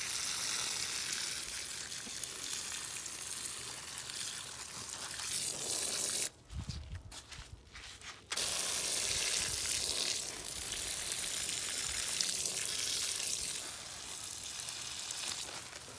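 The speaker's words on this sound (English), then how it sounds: "So this is the way I water the geraniums." Potted geraniums being watered, a steady hissing pour of water onto soil and leaves that breaks off briefly midway, then resumes at a similar level until the end.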